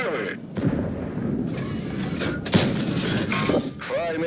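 A heavy tank cannon blast from the game World of Tanks booms sharply midway, with a couple of other muffled shots and engine rumble around it, under someone talking.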